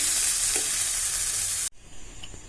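Sausage sizzles loudly in a frying pan with a dense, steady crackle, then a sudden break near the end gives way to a quieter, lighter sizzle. No one speaks.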